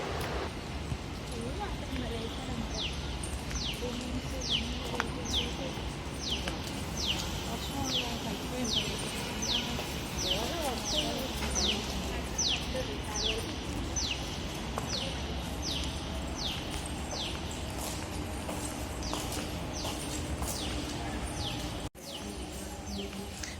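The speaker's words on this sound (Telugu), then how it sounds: "ఈ బర్డ్ సౌండ్స్ కూడా ఎంత బాగా వినిపిస్తున్నాయో మీరు వినండి" Birds in a quiet gated community sing a run of short, high, repeated chirps at a steady rhythm, moderately distant, over a soft background murmur.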